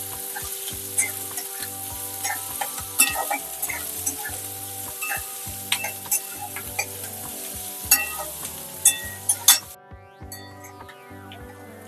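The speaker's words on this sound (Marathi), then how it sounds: "कांदा लाल होईपर्यंत परतायचा आहे चांगला" Chopped onions sizzle in a hot pan for pohe, stirred with a spoon in steady scraping strokes, with clinks of metal on the pan and a lower rhythmic pulse beneath; the sizzle drops away near the end.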